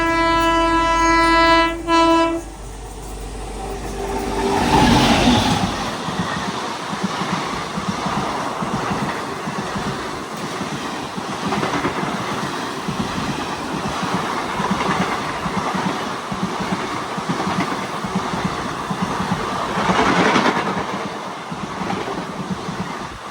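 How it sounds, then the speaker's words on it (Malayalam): The Mumbai LTT–Gorakhpur Special train passes at close range, opening with a loud horn blast and followed by a long, steady roar of wheels and carriages rolling by. "അതാണ് മുംബൈ LTT ഗോരഖ്പൂർ സ്പെഷ്യൽ. അപ്പോൾ അത് പോയിട്ടുണ്ട്."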